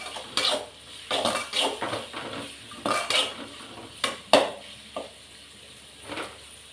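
Mustard seeds and ingredients being sautéed in a pan with a metal spoon for an eggplant side dish, irregular close clanks and scrapes of spoon against pan over a faint sizzle.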